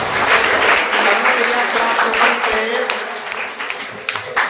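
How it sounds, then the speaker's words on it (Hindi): An audience at a school exam-results ceremony claps loudly for a class 7 student placed third, a dense, close wash of clapping that runs throughout and thins slightly toward the end. "एक बार जोरदार ताली बजाइएगा"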